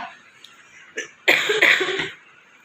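Coughing from someone with a chest cold and phlegm: a faint short cough, then one sharper hack, followed by a loud harsh burst of several rough coughs close to the mic, ending in quiet.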